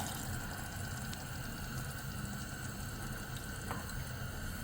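Water poured into a pan of horsegram sprouts masala curry, a steady, even rush of liquid lasting several seconds with no pauses and no talking.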